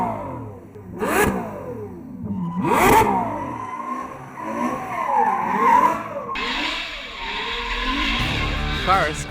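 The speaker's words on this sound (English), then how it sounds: "I love drifting." A car drifting with tires squealing and skidding in repeated sweeping bursts while the engine revs hard, loud and close, with a sharper rising hiss near the end.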